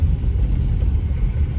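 A seventh-generation Hyundai Sonata drives through a tunnel, heard from inside as a loud, steady low rumble of road and engine noise with no voices.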